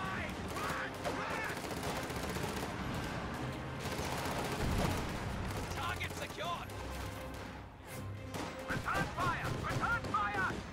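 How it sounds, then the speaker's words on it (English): A big flak burst and rolling gunfire in a World War II strategy video game with half-tracks and riflemen, dense continuous explosions and shots layered under a commentator's voice, loud and busy throughout. "that was a big flak burst"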